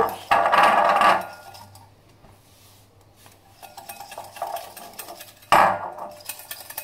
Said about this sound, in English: Whisking away until you get a very thick foam, thick cream mix consistency.